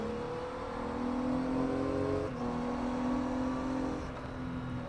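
A Triumph Tiger Sport 800 motorcycle engine hums and revs steadily on the move, a strong whirring drone that swells and eases slightly, with no voices over it.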